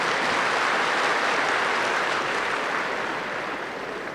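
Applause from an audience gathered for a spiritual discourse on inner purification: a dense, steady wash of many hands clapping throughout, loud and continuous, tapering slightly toward the end.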